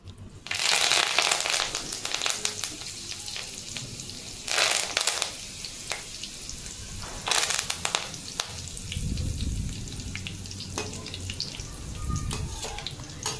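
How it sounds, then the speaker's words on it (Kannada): Poha chivda frying in a pan with curry leaves, a steady crackly sizzle broken by louder bursts of spattering and stirring, close and fairly quiet, with no talk. "ಈಗ ಇದನ್ನು ಚಲೋ ಕರ್ಕೊಂಬ್ರಿ."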